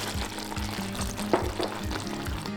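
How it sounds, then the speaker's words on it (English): Sugar syrup for peanut brittle boiling with peanuts in a pot as it is stirred, a steady close bubbling hiss with soft rhythmic scraping strokes and no speech. "The bubbling and the boiling that you have going on right now is the water evaporating"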